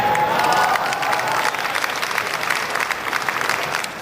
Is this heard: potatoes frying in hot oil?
no